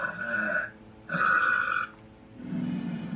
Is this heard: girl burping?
yes